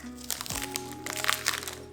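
A paper pack crinkles and crackles close by as it's handled, with a sharp crack near the start and a steady low hum underneath.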